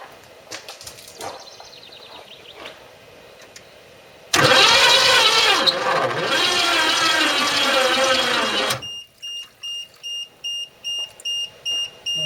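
A 1973 Chevy Nova, sitting 16 years with a locked motor, cranks on a boost box: a loud, harsh, grinding spin lasts about four seconds, then stops and gives way to a run of short, evenly spaced electronic beeps.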